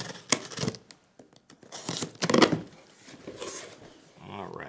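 A dry cleaner's shirt box is opened with tearing, rustling and crinkling of cardboard and paper wrapping in several bursts, close and fairly loud, with a voice speaking at the end.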